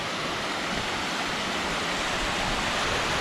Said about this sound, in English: I finally got to cross over the red burn, right underneath the waterfall